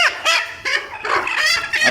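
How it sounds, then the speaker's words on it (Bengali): Native hens kept on a rooftop give a run of loud, close clucks and honking squawks, several calls overlapping in quick bursts with brief gaps between them. "এখানে এগুলো সবগুলো কিন্তু দেশি মুরগি, শুধুমাত্র 4টা মুরগি আছে, এগুলো হচ্ছে ফার্মি।"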